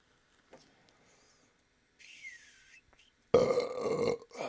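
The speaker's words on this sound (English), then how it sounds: "That was so rude of me to burp like that" A person lets out one loud, rough burp that lasts about a second, standing out clearly after near silence and a few faint whistly sounds.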